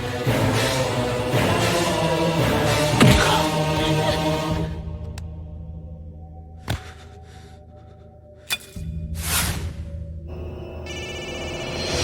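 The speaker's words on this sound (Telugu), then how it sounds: "ఫోన్ ఎత్తడేట్రా?" A telephone rings unanswered indoors in a comedy scene, its bell-like tone repeating over a busy background of music and movement before thinning out, with a few sharp clicks and a bright burst near the end.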